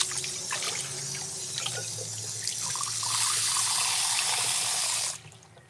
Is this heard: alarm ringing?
no